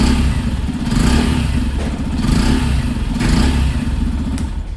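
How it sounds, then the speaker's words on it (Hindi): A Yamaha FZ Rave motorcycle runs just after starting, its exhaust giving a loud, close, throbbing beat that swells in a few short revs over a steady rumbling idle, with no voices. "सो एग्जॉस्ट साउंड मैं आप लोगों के पास सुना देता हूँ कि एग्जॉस्ट साउंड कैसी रहने वाली है"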